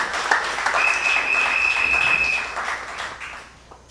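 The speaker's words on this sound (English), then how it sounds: "So give yourself a round of applause." An audience at a political rally in Princes Town, Trinidad, applauds in a steady, dense roar of clapping with a faint whistle or squeal over it, fading out at the end.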